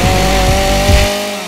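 Chainsaw from a horror short film roaring loud and steady at full throttle, a dense droning engine buzz that dips slightly as it eases off at the end.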